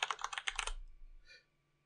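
Quick, close computer-keyboard typing as a shape name is entered in Tinkercad: a fast burst of crisp key clicks, then one short tap after a pause.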